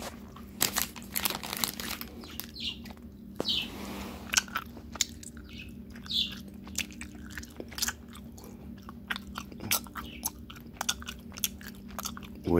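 Crinkly, crunchy chewing of plant-based, sugar-free Smart Sweets fish gummies, close to the mouth, with irregular bites and wrapper-like crackles over steady low background hum.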